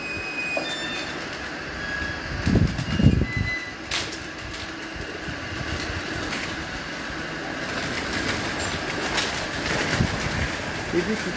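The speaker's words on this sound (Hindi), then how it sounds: "ये लाल परी कबूतर है।" Red pari pigeons coo in low, soft bursts from a Kasur rooftop amid steady background noise and distant clatter, with a couple of clearer coos standing out.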